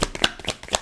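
Tarot cards shuffled by hand at close range, a quick run of soft papery flicks and slaps, brief and fairly quiet with no voice.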